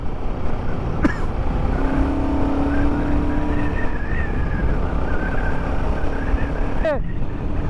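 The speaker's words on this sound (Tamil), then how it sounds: "கைஸ் நம்ம இப்போ கொரில்லா 450 ஓட்டிகிட்ருக்கோம்." A Royal Enfield Guerrilla 450 motorcycle on a test ride gives a steady engine rumble under continuous road and wind noise, with brief sharp sweeps and a rising whine near the end, while a voice talks over it.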